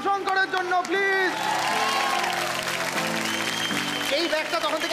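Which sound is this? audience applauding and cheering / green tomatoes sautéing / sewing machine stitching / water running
audience applauding and cheering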